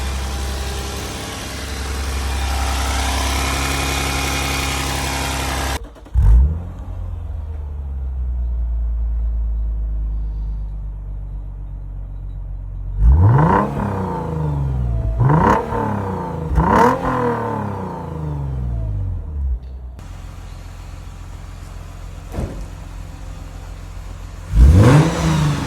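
Lexus all-wheel-drive car with new headers and a factory catback exhaust, its engine idling and then snapping through several sharp revs. The revs come in close bursts between steady idle stretches, loud and near, with no talking.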